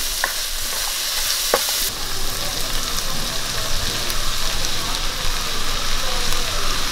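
Semolina (rava) roasting in a hot pan for Kerala-style upma, giving a steady, close sizzling hiss with stirring scrapes and a few sharp clicks early on, no talking.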